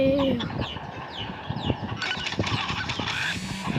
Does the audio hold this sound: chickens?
yes